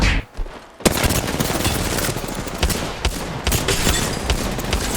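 Pistol fire in the battle royale game Apex Legends: after a brief lull, a loud, sustained stretch of rapid shots rings out close by, with sharp cracks stacking into near-continuous gunfire and no voices.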